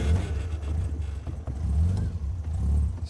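A Bugeye Sprite, converted from a 948 to a 1275 engine with a 5-speed gearbox, pulls away with a steady low rumble from its twin tip muffler exhaust. The engine sound rises and falls as it accelerates, loud and close.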